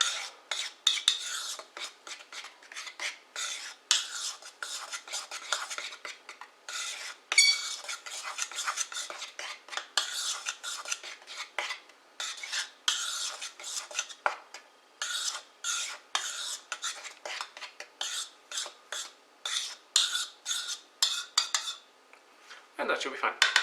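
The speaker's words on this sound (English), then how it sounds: "now you want to mix it up. So you don't have big chunks of anything together" Pebernødder cookie dough ingredients get mixed in a bowl with a utensil, a long run of brisk, rhythmic scraping and clinking strokes against the bowl, close and continuous, with no talk.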